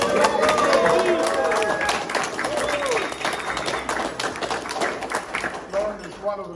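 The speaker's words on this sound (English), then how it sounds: "I think we need a big clap." Audience applause fills a gallery exhibition opening at JahRoc Galleries: dense, sustained clapping from a crowded room, loudest at the start and thinning slightly toward the end, with some voices mixed in.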